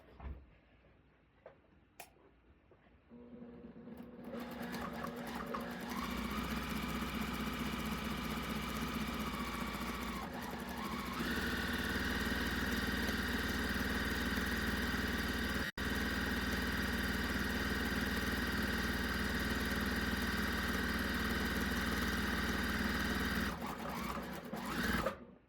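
A sewing machine stitches a quilt's half square triangles in a steady, fast, continuous whir. It runs close and unbroken for about twenty seconds, then stops.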